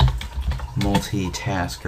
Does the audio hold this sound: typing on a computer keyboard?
yes